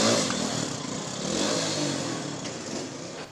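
An old motorcycle taxi engine in Kigali, a machine prone to breakdowns, runs loud and close as a steady, rough broadband roar with a slight swell in the middle.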